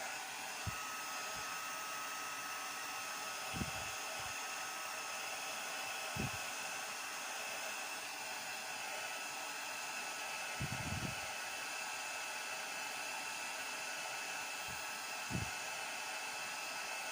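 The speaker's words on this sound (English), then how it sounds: "So I do have my heat gun to the side here." A steady, loud blowing roar of a heat gun runs throughout, with occasional low thumps and bumps beneath it.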